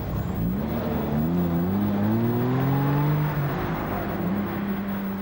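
Classic cars racing on a circuit at a European classic vehicle run, with engines revving and rising in pitch as they pass close by and then fade away, loud and free of talk.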